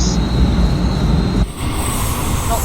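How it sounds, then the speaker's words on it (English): A London Underground-style tube train in Train Sim World 2 brakes hard through a tight curve, a loud steady rumble of wheels and running gear with a high sustained squeal, then a sudden shift to a thinner grinding roll with faint squeals. "I will, however, be putting on quite a significant amount of brake"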